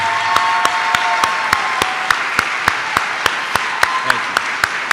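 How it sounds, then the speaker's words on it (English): An audience at a firefighter graduation ceremony applauds, with steady crowd clapping punctuated by sharp, evenly spaced loud claps close by, continuing for the whole stretch. "Let's give them a round of applause."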